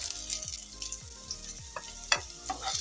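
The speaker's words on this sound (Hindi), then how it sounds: "तड़का बिल्कुल तैयार है, तब आम को हम इसमें छौंक देंगे" Hot tempering oil sizzles and crackles steadily as mango pieces fry, with soft scraping and stirring sounds underneath.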